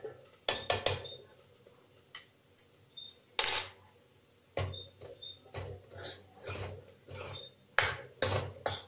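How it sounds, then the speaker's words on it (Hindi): A spoon scrapes and clinks against a pan as besan is stirred and roasted in ghee for besan modak, in irregular bursts of metallic taps and scraping with quiet pauses between. "तो इस तरह हम इसको अच्छे से भूनेंगे, टाइम लगेगा अभी।"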